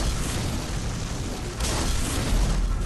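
A muffled explosive rumble in the Bloodborne video game, a dense, loud boom filling the whole span with a brief dip and then a renewed surge of roaring blast noise.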